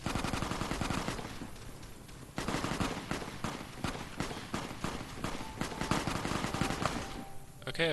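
Rapid gunfire from Fallout: New Vegas, with dense bursts of shots and sustained automatic fire that stay loud and steady for the whole stretch.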